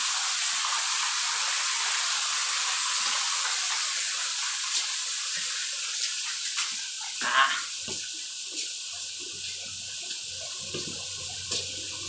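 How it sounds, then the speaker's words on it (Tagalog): Water gushing steadily in a dark, unlit spot, a continuous hissing rush that stays even throughout, with a few faint knocks and a low hum joining later. "daming tubig"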